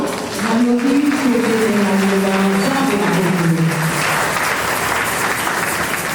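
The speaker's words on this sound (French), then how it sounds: "Je disais, nous acclamons cette parole." Church congregation applauding at a Sunday worship service, steady clapping throughout with a voice speaking or singing over the first few seconds before fading under the applause.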